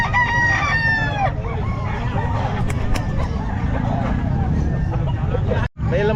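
At a busy pet market, a Shamo gamecock crows loudly and nearby chickens cluck, with dogs barking and people talking over the crowded, noisy background.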